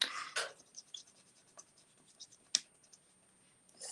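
A bullet-tip marker colours on paper in short, quiet scratchy strokes with gaps between them, one sharper scrape standing out midway.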